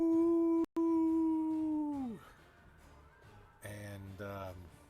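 A person vocally imitating a loud creature howl, a long sustained wail held steady and then dropping away, followed by a brief rougher vocal sound, close and loud.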